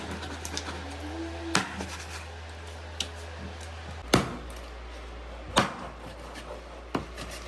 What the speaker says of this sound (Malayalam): സവാള പൊടിക്കുന്നു